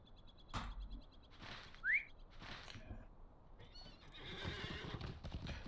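Horse in the Lord of the Rings Online video game, with scattered hoof clops, a loud whinny near the middle and busier hoofbeats toward the end, alongside bird-like whistles.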